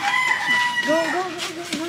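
A rooster crows with a rising, wavering call, nearby and fairly clear, followed by a few short clucks.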